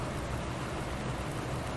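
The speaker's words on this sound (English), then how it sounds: "the rain has already started taking off" Steady rain falls in Farming Simulator 19, an even, unbroken hiss of drops with no talk over it.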